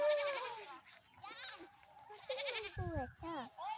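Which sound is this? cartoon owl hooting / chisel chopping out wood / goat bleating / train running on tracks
goat bleating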